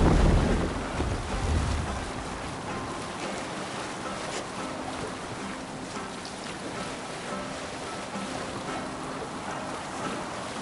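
A sailing ship moves across open sea in Assassin's Creed Valhalla, with a steady wash of wind, waves and creaking hull noise, a little louder at the start and then an even, continuous rush.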